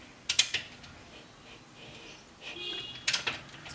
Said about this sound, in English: I'm going to turn the rear crank in the direction of rotation, which means I'll turn it via the front crank